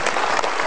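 Brief burst of studio audience applause, loud and close, dense clapping filling the whole moment.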